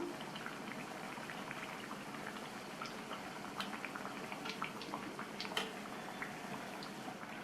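Thavala vadai deep-frying in hot oil give a steady, soft bubbling hiss with scattered sharp crackles and pops, close and fairly quiet, with no voices over it.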